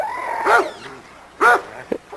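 A small dog of about 38 to 39 pounds, kept in a yard, barks twice, with a few quieter yips and whimpers in between.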